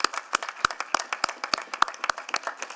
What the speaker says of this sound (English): let's give Mayor Farkas a big round of applause